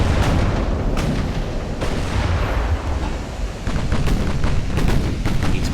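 Heavy warship guns fire in the naval battle game Ultimate Admiral Dreadnoughts, aboard a heavily armed German Kaiser-era battleship: repeated loud booming blasts over a constant low rumble.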